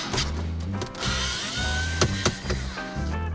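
Self-tapping screws being backed out of a car stereo panel on a Hyundai Avante Elantra, a steady mechanical whir with ratcheting clicks and a few sharp knocks, close and fairly loud throughout.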